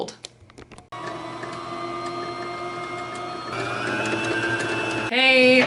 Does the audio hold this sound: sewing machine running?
yes